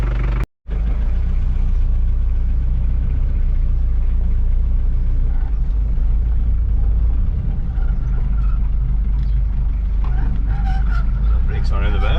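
A 1989 Daihatsu Fourtrak engine runs with a steady, low, loud rumble right after a brief cutout, idling evenly throughout while a person talks over it.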